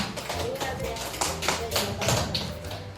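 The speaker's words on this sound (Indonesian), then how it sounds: "Tepuk tangan dulu Bapak Ibu untuk kita semua." Applause from an Indonesian school audience of teachers, a series of uneven, moderately loud claps and taps that thin out over a few seconds amid room murmur.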